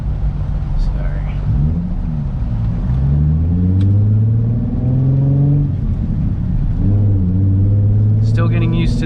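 Nissan 350Z HR with a Tomei exhaust driving, its engine droning and rising in pitch through steady acceleration and shifts, loud and continuous from inside the cabin.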